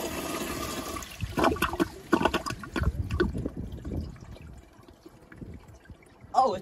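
A Toto CT705 toilet on a piston flushometer gives a weak, partial flush: a rushing, gurgling surge of water that trails off into trickling and dribbling, with a sharp clunk near the end.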